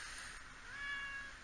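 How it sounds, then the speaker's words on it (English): A pet house cat gives a single drawn-out meow, close and fairly quiet indoors, alone without talking. "My cat wants to come up and say hi."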